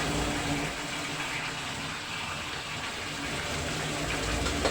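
Water is poured off freshly cooked pancit canton noodles, a continuous loud, close gushing rush of draining liquid that runs steadily throughout with no talking.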